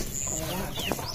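An Aseel hen clucks in a short, close burst of low calls with a rising squawk near the end, over steady background noise.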